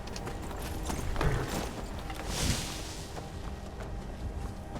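Horse hooves clip-clopping at a steady trot in the modded Skyrim Special Edition video game, a fairly quiet rhythmic patter under a continuous ambient background bed with no voices.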